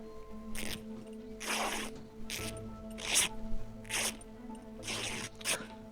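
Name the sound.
cutting clothing into rags in video game SCUM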